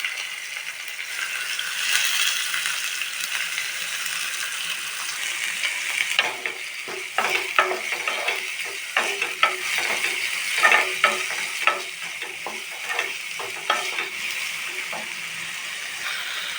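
Green chillies, onion and curry leaves fry in a hot pan with a continuous hiss, and clustered stirring clatters and scrapes build up through the middle and later part. Nobody talks.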